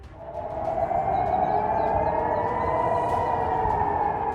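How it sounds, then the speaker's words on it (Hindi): An emergency siren wails across the area after a drone attack on a financial district building in Dubai, a steady sustained tone with slight pitch drift, moderately loud and continuous for several seconds, no voices. "पूरे इलाके में इमरजेंसी अलार्म और सायरन की आवाज गूंजनी शुरू हो गई।"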